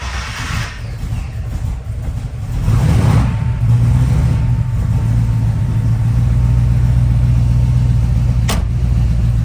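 A 1971 Ford Bronco custom's engine cranks briefly and catches, then settles into a loud, steady, rumbling idle that holds close and continuous, with a sharp click near the end.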